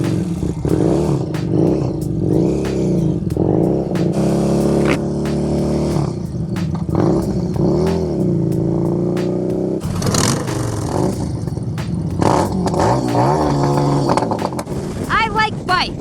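A Harley-Davidson Street Rod motorcycle engine idles and revs close by, a steady throaty rumble with rising and falling throttle blips, while someone talks over it throughout.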